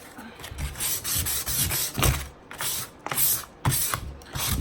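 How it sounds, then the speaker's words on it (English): Hand sanding of a painted Frankenstein craft piece, working mainly along the edges: close, repeated scratchy rasping strokes in an uneven back-and-forth rhythm with brief pauses between passes. "So I'm just gonna sand it."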